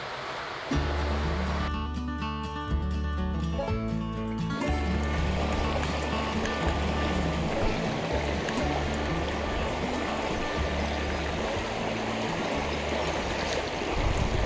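A trout river rushes steadily nearby, a broad constant wash of flowing water, with some low knocking and faint voices early on.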